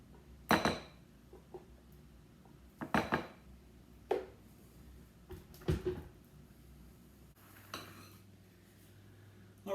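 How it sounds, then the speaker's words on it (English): A spoon scrapes and knocks against a food processor bowl while homemade hummus is scooped out, giving several separate close clanks and scrapes with quiet gaps between them and no talking. "Take our lid off. And we'll scoop out all of our hummus."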